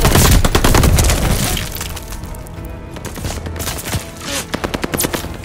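Dense automatic gunfire and scattered shots at a contested hardpoint in the multiplayer shooter Call of Duty: Vanguard, loud and continuous at first, then thinning into sharp separate bursts near the end.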